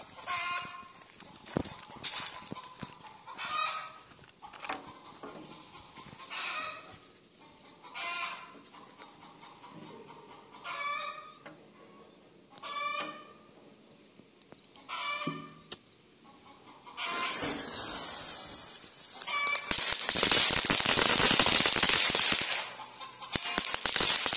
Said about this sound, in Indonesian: kita akan menyalakan mercon pretek